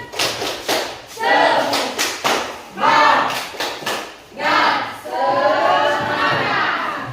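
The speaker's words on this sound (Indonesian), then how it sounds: "Tepuk semangat." A school class performs a rhythmic spirit clap in the classroom, with repeated bursts of patterned clapping and shouted voices chanting along, loud and close, separated by brief gaps.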